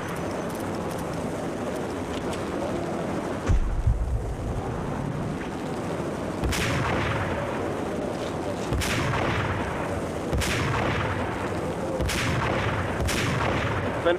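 Gunshots ring out in the video game Max Payne: about six sharp cracks, spaced irregularly a second or two apart, over a constant low background rumble.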